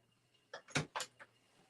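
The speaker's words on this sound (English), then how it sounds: "Someone's at my door." A few quick knocks or bumps at a home's front door as a visitor arrives, clustered in under a second and fairly faint over a steady low hum.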